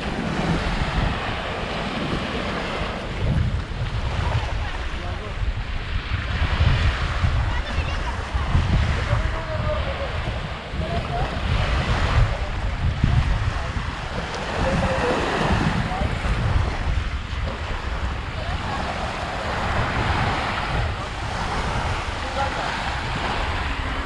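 Sea waves wash steadily onto Devgad beach at Jamsande, a clean shore lined with casuarina trees, a continuous surf roar with wind buffeting the microphone and faint talk underneath.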